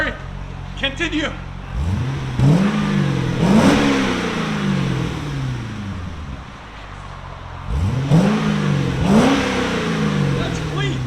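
A 2008 Corvette's LS3 V8 barks through Magnaflow mufflers and an X pipe, two pairs of quick throttle blips climbing and falling back to a burbling idle, loud and near, with brief talk at the start.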